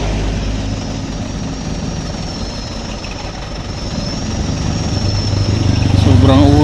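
A motorcycle engine putters steadily at close range, running rough and then revving up louder toward the end, with people talking over it.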